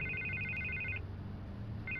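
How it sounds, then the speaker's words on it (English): A telephone rings in the Batman Telltale Series video game, two electronic trilling bursts separated by a short pause, faint over a low background hum. "I can't get the phone to stop ringing"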